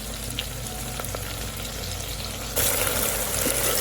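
Ingredients for mutton haleem sizzling and sautéing in a pan, a steady close fry with occasional stirring scrapes and a brighter, louder hiss toward the end, no talk.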